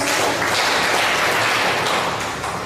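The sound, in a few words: round of applause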